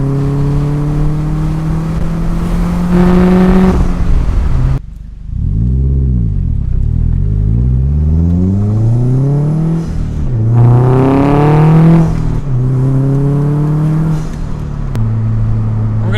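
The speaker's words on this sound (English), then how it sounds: "Downshift because I have a passing lane and I will take it." A car downshifts and accelerates hard to overtake in a passing lane, the engine revving up through the gears in rising sweeps, loud and close, with a brief dip as it shifts.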